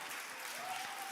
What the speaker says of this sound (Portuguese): Você pode aplaudir a nossa equipe de louvor?